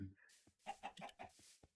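A chicken in the Minecraft video game clucking in a quick run of four or five short, close, clear clucks with brief gaps, no talk.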